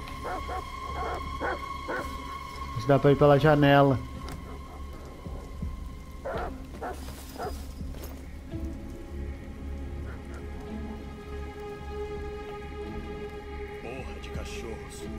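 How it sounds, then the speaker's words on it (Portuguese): In the video game Detroit: Become Human, dogs bark during a rainstorm at a CyberLife warehouse. A short burst of barking rises over steady patter of rain and low rumble, and someone speaks briefly. "Porra de cachorros. Por que eles não param de latir?"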